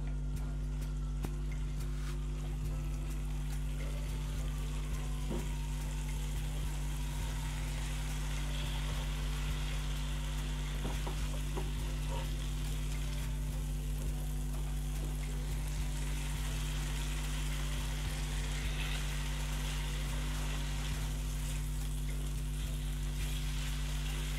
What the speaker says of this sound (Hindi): अब मैं इसमें बॉईल किया हुआ मटन शामिल कर दूंगी। इसको मिक्स करेंगे।